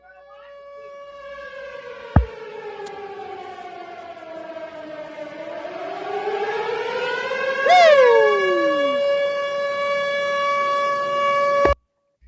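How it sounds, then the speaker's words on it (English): An asylum siren wails alone for about ten seconds, a steady rising and falling tone with a sharp upward swoop midway, loud and close, ending abruptly after a couple of sharp clicks. "The asylum siren blares."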